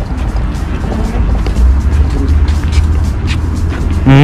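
Steady city street traffic rumbles through Antwerp, Belgium, a continuous low drone of passing cars with a louder vehicle swelling near the end.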